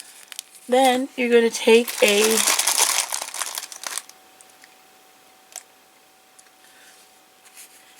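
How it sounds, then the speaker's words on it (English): A spare plastic bag being crumpled for a small toy ghost costume gives close, crinkly rustling that follows a spoken phrase, then fades to sparse light handling sounds. "Crumple up the extra bag, put it in the middle, and fold around like so."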